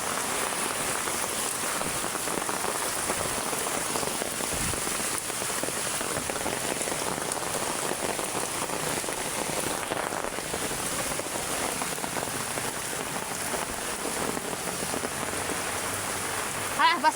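Heavy rain pours down steadily, a dense, continuous hiss of drops striking surfaces close by, loud and unbroken throughout with no clear talk over it.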